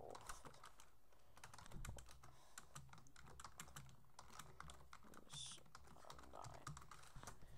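Rapid, irregular typing on a computer keyboard while entering text into a Visual Basic program, steady clicking keystrokes close to the microphone with no talking.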